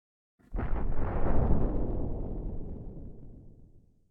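A big explosion as moons crash into Mars in a video game, a sudden loud blast that swells into a deep rumbling roar and slowly fades out over several seconds, heard alone.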